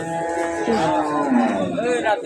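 A cow moos loudly and close at a cattle market, a long drawn-out bellow that rises and falls over a couple of seconds.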